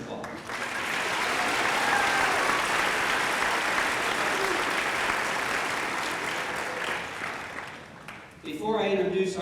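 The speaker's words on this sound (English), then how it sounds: "Now you can applaud." Sustained applause from a graduation audience swells and holds in a large hall, loud and even, then fades as a voice begins speaking near the end.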